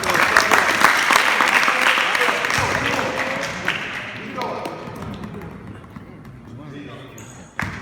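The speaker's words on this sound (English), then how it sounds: "Clap it up for him." Group applause at a basketball training session, a loud burst of clapping that gradually dies away, with some ball or court sounds mixed in.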